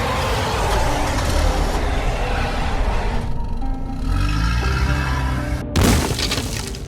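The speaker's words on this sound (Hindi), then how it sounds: "बाबा ने तो गाड़ी मॉन्स्टर के ऊपर से ही उड़ा दी।" Animated cartoon vehicle engine roaring loudly and steadily, with a crash or shattering burst and a sudden cut near the end.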